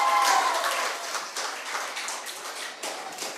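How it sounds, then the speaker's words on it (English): An audience applauds at a national reading competition, a steady wash of many hands clapping together that fades slightly but keeps going throughout. "Round of applause for Miss Ariana Challenger."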